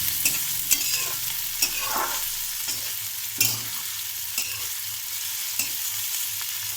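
Steady frying sizzle in a pan, with broadband crackle and occasional sharp clicks from stirring throughout, close and continuous with no talking.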